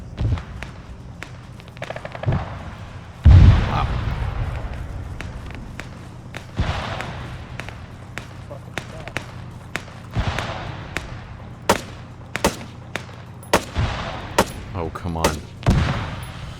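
Sharp gunshots crack in ArmA 3, some single and some in short bursts, with a loud heavy blast early on and scattered reports, some close and some more distant, through the rest.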